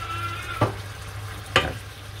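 Frozen shrimp frying in a pan with sweet pepper, salt, food colouring and saffron, a steady close sizzle broken by two sharp stirring scrapes.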